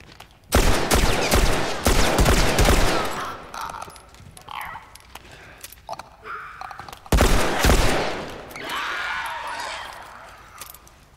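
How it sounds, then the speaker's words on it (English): Rapid bursts of gunfire from The Last of Us, loud and dense, in two long volleys separated by a quieter stretch of game sounds and scattered shots. "I'm just going to blast this with the revolver."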